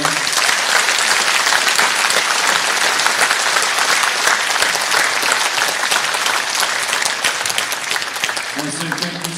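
Audience applause for the Oelwein High School band at a school Veterans Day program, a dense, steady wash of many hands clapping that holds strongly for about nine seconds before easing slightly at the end.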